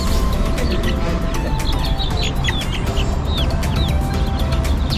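Chickens cluck and call over a dense, constant background of farmyard noise, with many short overlapping bird sounds close by.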